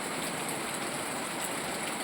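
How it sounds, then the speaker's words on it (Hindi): Steady rain hisses down without pause, an even wash of drops pattering on surfaces, soft and continuous. "क्या करें, इतनी बारिश हो रही है"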